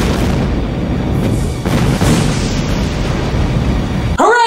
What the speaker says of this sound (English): I'm just gonna detonate the ship and run away like a coward.